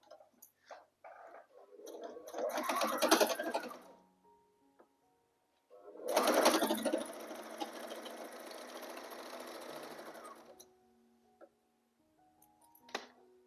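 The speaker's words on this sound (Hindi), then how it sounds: "मजबूती के लिए सिलाई लगा लेंगे।" A sewing machine stitches fabric for a designer latkan in two steady, rattling runs of a couple of seconds each, close and clear, separated by quiet handling sounds.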